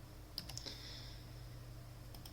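Keys tapped on a computer keyboard while a category title is entered in the Joomla 3 admin panel: a few quick clicks early on, then near silence, then two more taps at the end.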